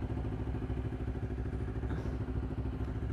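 A big motorcycle runs nearby with a steady, pulsing mid-pitched engine chug and light mechanical clatter, moderately loud and continuous, with no talking.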